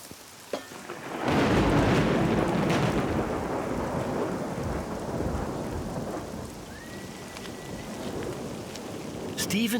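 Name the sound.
thunderstorm with heavy rain downpour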